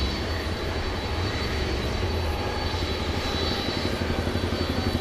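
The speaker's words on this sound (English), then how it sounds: "there's another UPS plane just coming in here on 18 right" A UPS Boeing 767 cargo jet arriving on runway 18 right at DFW airport at night, a steady, loud engine roar with low rumble throughout, heard from the ground without talk.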